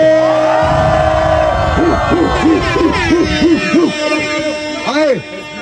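A crowd at a Brazilian rap battle grand final whoops, yells and shouts in repeated rising bursts, loud and close, with a strong steady tone beneath the noise.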